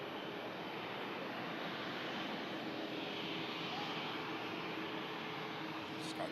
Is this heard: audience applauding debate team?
no